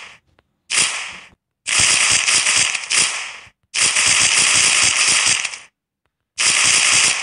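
Gunfire in a low-size zombie shooting video game, heard as five loud bursts of rapid automatic fire separated by short silent gaps, with no speech.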